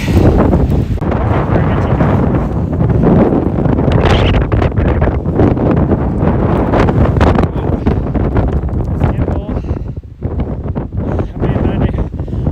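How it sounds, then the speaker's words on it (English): Strong, continuous wind on a mountain near Bozeman, Montana buffets the microphone with loud roaring gusts, broadband and relentless throughout, briefly easing near the end before picking up again. "as windy as it is up here"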